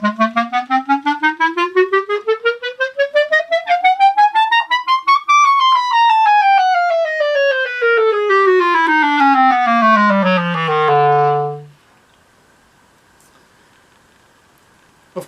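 A solo clarinet plays a chromatic scale in four-note groups, crisply tongued on the climb, then slurred smoothly on the descent, ending on a held low note before quiet room tone.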